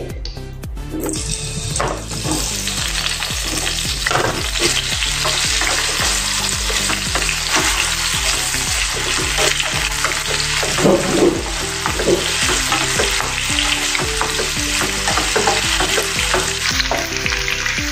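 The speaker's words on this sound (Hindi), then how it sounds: "अभी हम पहले आलू को तल लेंगे।" Potato pieces sizzle in a couple of spoons of hot oil in a pan, a loud, steady frying hiss with repeated scraping and stirring clatter throughout.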